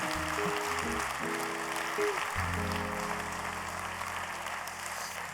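Applause from the audience at a wine awards gala, steady clapping that continues throughout with sustained musical tones playing underneath.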